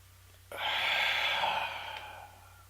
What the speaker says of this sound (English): Deep breath in, close your eyes.